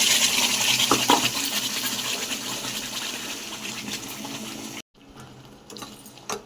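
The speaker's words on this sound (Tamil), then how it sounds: "நம்ம தேவையான அளவு தண்ணி ஊற்றிக்கிட்டோங்க" Water poured steadily into ground paste for a tomato kuzhambu, a loud continuous splashing gush for almost five seconds that stops abruptly, leaving faint kitchen noise afterward.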